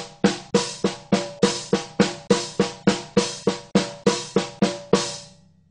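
A slow Swiss triplet blast beat on hi-hat and snare without kick drum, about a dozen and a half evenly spaced sharp strikes in a steady pulse, close and unaccompanied, ending in a short ring-out.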